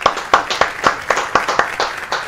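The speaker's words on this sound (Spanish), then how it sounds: "recibamos con un gran fuerte aplauso al ingeniero José Carmona" Audience clapping to welcome a guest onto a Spanish-language TV show, heard as a steady run of sharp, evenly spaced claps at moderate loudness with no talk over it.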